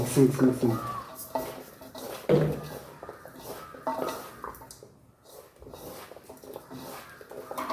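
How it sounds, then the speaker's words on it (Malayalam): Spiced beef is worked by hand in a bowl, with irregular squelching, clinks and scraping bursts, loudest at the start, under faint intermittent talking. "നല്ലോണം മിക്സ് ആക്കുക."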